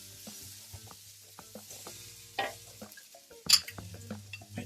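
Tofu frying in a pan with oil, onions and garlic, a faint steady sizzle beneath scattered soft clicks and scrapes of stirring, with one louder clatter near the end.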